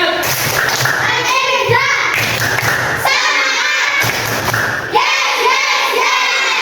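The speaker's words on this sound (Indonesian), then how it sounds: "Tepuk semangat." A classroom of young madrasa pupils claps and stamps in a loud, rhythmic group cheer, repeated in bursts with children's voices chanting along.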